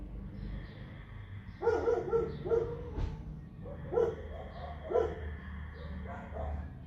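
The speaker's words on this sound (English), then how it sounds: "The postman is outside, so all the dogs are freaking out." Several dogs bark at a postman outside in short, scattered bursts, fairly distant and moderately loud against a quiet indoor background.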